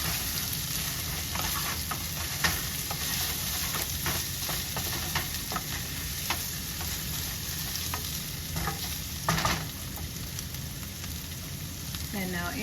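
Garlic sizzles steadily in a hot pan for a Rotel chicken dish, with constant close crackle and occasional sharp clicks and scrapes of stirring.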